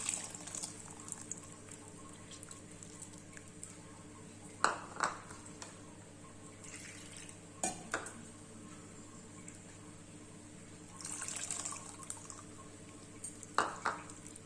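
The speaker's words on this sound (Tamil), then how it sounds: "இப்போ நம்ம வந்து இந்த புளியை கரைச்சதை ஊற்றிடலாம்" Tamarind water splashes and pours into a boiling pot in a few short bursts over a steady low background hum, with quiet trickling between pours.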